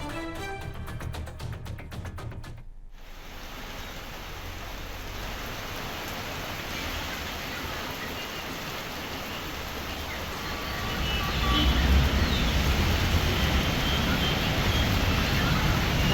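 Heavy rain pouring down in Dharwad, a dense constant roar of drops on flooded streets that swells louder toward the end, after a brief buzzing electronic start.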